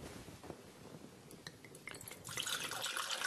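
Water poured into crêpe batter made with buckwheat flour: soft, faint trickling and drips, swelling into a fuller splashing pour near the end.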